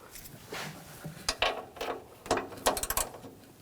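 Ratchet wrench snugging a hood hinge bolt on a 2014-2020 Nissan Rogue, a few bursts of rapid metallic clicks close up, growing quicker toward the end.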